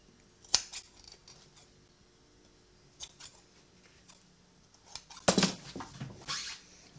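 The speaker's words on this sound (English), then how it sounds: "Now just snip off your threads." Scissors snip off loose sewing threads on a fabric pocket tissue holder, giving a few sharp, close cuts scattered over quiet, with a cluster of quick snips near the end.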